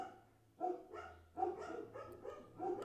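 Dogs bark in three evenly spaced loud bursts, each a cluster of sharp woofs, moderately close, with a low hum between them.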